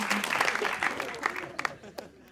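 Studio audience clapping on a Pakistani TV talk show, a dense crackle of hands running steadily throughout, with a voice talking over it.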